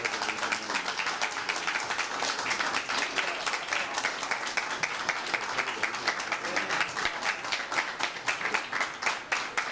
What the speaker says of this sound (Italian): Ed è scattato l'applauso